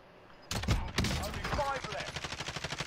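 Rapid automatic gunfire from the video game Call of Duty Warzone, a dense run of loud sharp shots starting abruptly and continuing steadily to the end, with a few heavier blasts early on.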